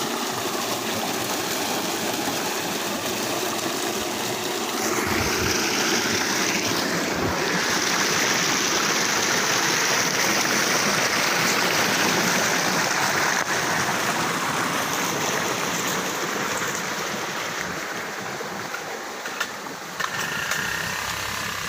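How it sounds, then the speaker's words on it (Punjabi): Water from a motor pump gushes into a paved field channel on a farm, making a loud, unbroken rushing roar close by for the whole stretch, with no talk over it. "ਚੱਲ ਪਿਆ ਜੀ ਪਾਣੀ"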